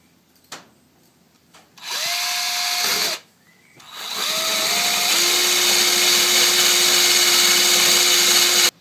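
A power drill working on a lawn mower ignition coil whirs in two bursts, a short spin that stops, then a longer sustained loud run with a steady whining pitch.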